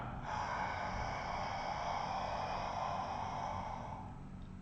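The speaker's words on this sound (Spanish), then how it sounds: "vamos a hacer una respiración por la boca. Entonces, como si aspirase una A." During a yoga class, a long, steady breath drawn in through an open mouth makes a soft, breathy hiss that holds for several seconds before fading slightly.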